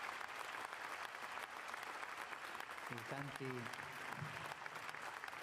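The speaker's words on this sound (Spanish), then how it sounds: "Un aplauso al maestro y a todos." A large open-air Mass congregation in Trieste applauds the liturgy choir master and helpers, a broad, distant wash of clapping that carries throughout, with a brief voice or sung note rising over it midway.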